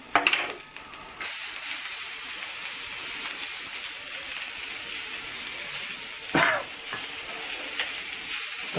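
Onions and green chillies sauté in a pan for an omelette. A steady broad sizzle runs throughout, with occasional stirring scrapes, close and alone without talk.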